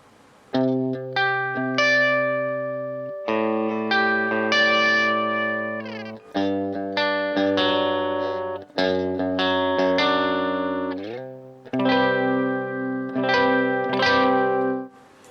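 An electric guitar through a Bias Mini amp's clean Tweed Lux tone plays sustained chords and picked notes with a shimmering, slightly effected tone, alone.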